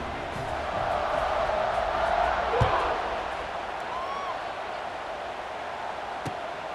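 Stadium crowd in EA Sports College Football, Nebraska vs Michigan, keeping up a broad sustained roar after a kickoff with a brief thump partway through.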